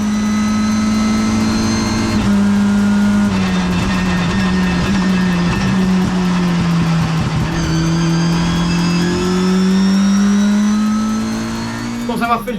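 Mitjet race car at the Barcelona circuit, its engine droning loudly from inside the cockpit as it downshifts, with short auto-blips and pitch jumps between gears over a steady mid-range roar.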